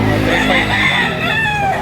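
A rooster for sale at a rainy market in Lipa, Batangas crows once in a loud, close, drawn-out call.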